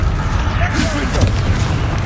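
A Confringo fire spell blasts in Hogwarts Legacy, a dull booming explosion with a low rumbling body that holds steady for about two seconds under a dense layer of game noise and a shouting voice.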